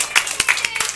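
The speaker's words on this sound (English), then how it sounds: "Everybody give him a round of applause." An audience claps in a brief round of applause at a variety entertainment show, a quick burst of several distinct claps, fairly near and moderately loud.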